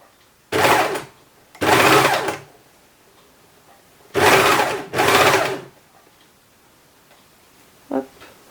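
An overlock serger stitches fabric in four short bursts of fast mechanical whirring, each about a second long and separated by pauses, with a faint click near the end.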